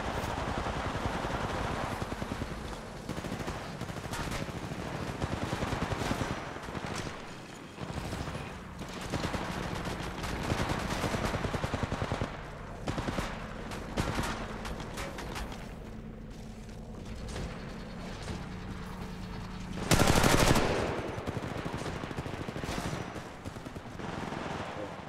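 Apex Legends gunfire crackles in repeated automatic bursts and single shots, moderately loud and close, with a sharp louder blast near the end.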